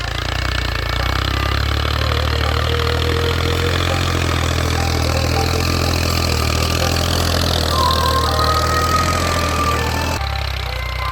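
A tractor engine working in a farm field during wheat sowing, a continuous loud diesel drone with steady low throb throughout, close by, with bird calls faintly above.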